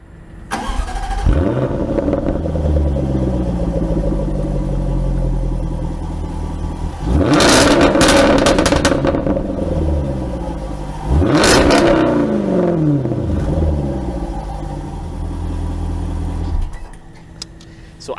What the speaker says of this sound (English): So as you can hear from that, the car is an absolute monster. It is so loud, and yes, in fact, it is a stock exhaust.